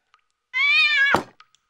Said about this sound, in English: And you just buttered the cat.